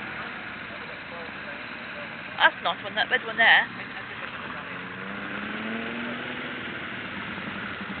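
Race cars at the Brooklands circuit, heard as a steady motor-racing engine drone throughout, with nearby people talking over it and a brief burst of louder sharp noises partway through.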